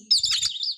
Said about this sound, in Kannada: ಕೋಗಿಲೆಗಳು ಹಾಡುತ್ತಿವೆ,